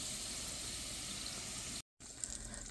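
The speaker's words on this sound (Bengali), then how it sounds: "বাগারটা আমার ভাজা হয়ে গেছে, এখন ডালের ভিতর দিয়ে দেবো।" Fried garlic tempering (baghar) is poured into cooked lentils for haleem, a soft continuous sizzle and bubbling hiss that breaks off briefly and then resumes, quiet and close with no talking.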